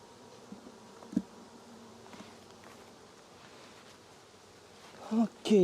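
Honey bees buzzing around a split hive during a frame inspection, a soft steady drone with a few brief louder passes close by near the end.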